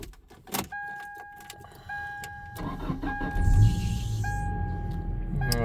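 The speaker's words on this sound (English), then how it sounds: "We'll start the truck up here." 2003 Toyota Tacoma 2.7L truck with a five-speed, parked with the e-brake on, cranks and starts with a brief wet-belt squeal, then settles into a steady nearby idle rumble.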